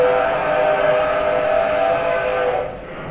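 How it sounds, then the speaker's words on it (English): Santa Cruz Railroad train from California sounding a loud, sustained steam whistle that holds steady for a couple of seconds, then cuts off. "This is a train from Santa Cruz, California."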